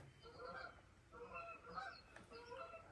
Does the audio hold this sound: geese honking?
yes